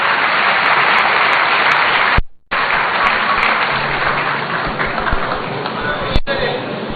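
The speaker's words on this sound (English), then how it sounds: "Shall we welcome him with a round of applause" A large gathering at a political tour event in Ghana's Volta Region welcomes a reverend with broad, continuous applause, briefly cut by a short dropout, then continuing with some voices mixed in.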